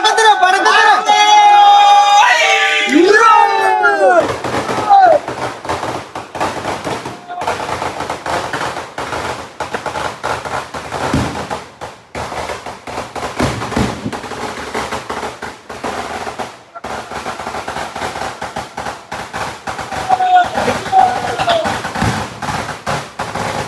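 Firecrackers go off in long, rapid rattling bursts and sharp cracks at a snake boat's launch before the Nehru Trophy race, loud and close, with voices heard early and now and then between the bursts.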